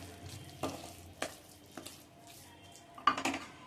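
A spoon scrapes and clanks intermittently in a pan while raw banana pav bhaji is stirred, with a few distinct knocks spaced apart over a quiet, faint sizzle.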